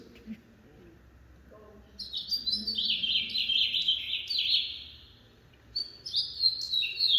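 Hollywood finches, sold as caged birds in New York, sing in bright warbling phrases that come and go over several seconds, fairly clear against a quiet background.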